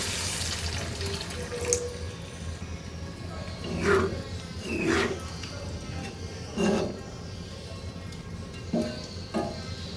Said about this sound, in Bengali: মিক্সড করে পানি দিয়ে দেব